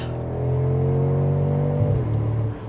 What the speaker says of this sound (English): On that upshift sound, that definitely is augmented